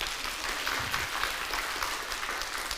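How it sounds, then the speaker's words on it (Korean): A church congregation claps steadily in encouragement during a Sunday worship service, a dense, continuous round of applause filling the sanctuary at moderate volume. "격려의 박수 한번 해주세요."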